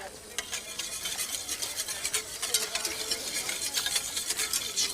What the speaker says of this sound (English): Give that a bit of a whisk.